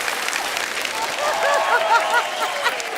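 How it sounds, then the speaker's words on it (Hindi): Studio audience at a comedy talk show claps in a steady wash of applause, with voices calling and talking over the clapping throughout. "जोरदार ताली हो जाए यार।"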